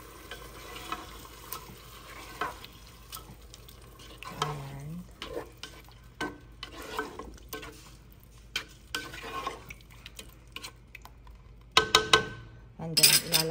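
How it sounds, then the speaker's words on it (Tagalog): Beef mechado is stirred in a pan with tomato, producing repeated scraping and clinking strokes over a soft sizzle, fairly close, with a louder burst of clatter near the end. "Hahalo ko lang siya."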